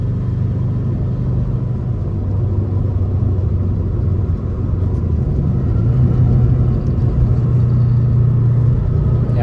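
A turbocharged Subaru WRX Bugeye with 300,000 miles pulls hard on the road, its small turbo engine giving a loud, steady in-cabin rumble that swells slightly as it accelerates through the gears, with no voices.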